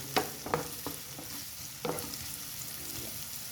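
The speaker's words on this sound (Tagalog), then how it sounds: "Sunod, ilagay ko na ang sangkay ng ating sibuyas. Igisa-gisa natin" Sliced onions sautéing in a pan for a beef and sotanghon dish, a steady soft sizzle with a few sharp spatula scrapes and taps near the start, close by with no talk.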